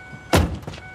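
A single sharp mechanical clunk as a Mercedes-McLaren SLR car door unlatches and swings open, followed by faint rustling movement nearby.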